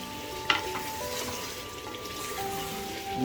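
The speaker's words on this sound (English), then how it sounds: "I have been stirring this or frying this for almost 10 minutes on high flame" Mutton for Kashmiri rogan josh fries on high flame in a pan, giving a steady close sizzle with intermittent scraping and stirring clatter throughout.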